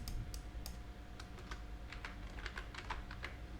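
Rapid, uneven clicks of fingers on a computer keyboard, a Ctrl+F shortcut followed by a short typed search word, close and clear over a faint steady hum.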